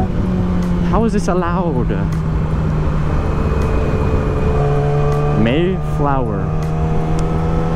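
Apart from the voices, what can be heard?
vehicle driving on the road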